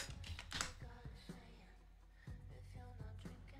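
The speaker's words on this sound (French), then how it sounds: "Mon chat qui marche sur mon clavier" Paws press a computer keyboard as a cat walks across it, giving a dense run of irregular key clicks and thumps over a steady low background hum.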